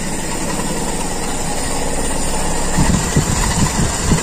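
Carburetor engine of a Toyota Kijang idling steadily just after a restart, with a continuous close, loud rumble that grows slightly rougher and more uneven toward the end.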